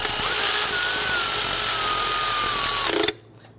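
Power tool whirring steadily for about three seconds as it tightens a bracket on the 3.5L V6 engine of a 2011-2017 Nissan Quest, then cutting off abruptly, heard close and loud.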